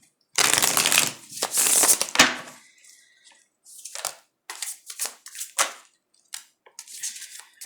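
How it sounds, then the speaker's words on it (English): Tarot cards being shuffled by hand, a long riffle followed by a series of short bursts of shuffling, close and clear with no talking. "Alright, one more shuffle and we're going to get into it."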